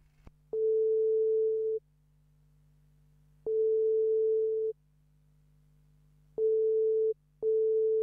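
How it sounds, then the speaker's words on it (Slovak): A Philip door intercom linked to a home telephone gives steady electronic beep tones during an operation: four sustained tones, each roughly a second long, with the last two coming close together. They are clear and alone against a faint hum. "Používanie Philipa je sprevádzané zvukovou signalizáciou upozorňujúcou na práve prebiehajúcu operáciu medzi Philipom a domácim telefónom"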